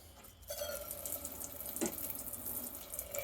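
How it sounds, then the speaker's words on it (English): Water gushes into a sink from a Whale hand pump worked by a lever in a converted cargo trailer, a short, close, splashing stream starting after a brief pause, with a faint bump midway and no talk. "to operate the sink, I'm using what's called a whale pump."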